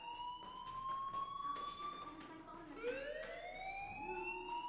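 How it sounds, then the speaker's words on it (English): In the Life is Strange video game, a fire alarm sounds as a wailing electronic tone that sweeps downward and then rises again, moderately loud over faint background game ambience. "do you hear that fire alarm?"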